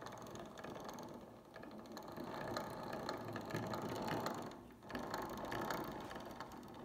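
A miter pack gearbox mounted on a carbon fiber flange turns with a steady, close mechanical whir and fine ratcheting clicks. The sound runs continuously with a brief dip near the end.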